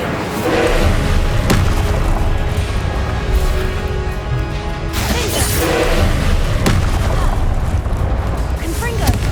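An Incendio fire spell cast in Hogwarts Legacy, loud booming bursts and roaring blasts over a dense, constant wash of combat noise, with a voice speaking throughout.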